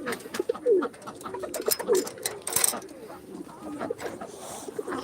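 Satin pigeons coo in a loft, low throaty calls repeating on and off over light background clatter and a faint mechanical hum.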